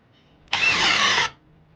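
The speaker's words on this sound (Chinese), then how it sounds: "我们实验一下打孔" A cordless lithium drill on its fast speed drives an 18 mm twist auger bit into a square timber beam, giving one loud, steady whirring burst of under a second that starts and stops abruptly.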